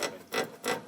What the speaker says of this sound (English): It just rubs, it knocks, it makes the whole car vibrate.